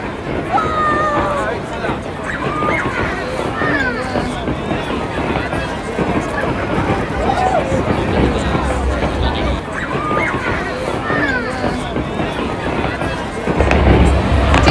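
New Year fireworks in Taiwan crackle and pop over a noisy crowd, with excited voices and chatter running throughout and a deeper boom rising near the end.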